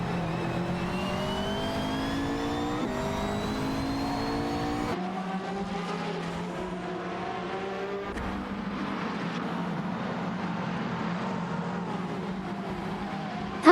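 A racing car accelerates away with a loud, sustained engine roar, the pitch climbing through gear changes before dropping and building again, steady and close throughout.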